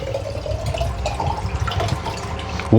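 Tender coconut water pours from the nut into a glass, a close, trickling splash with small drips that fluctuates in strength and ends in a brief louder bump, with no one talking.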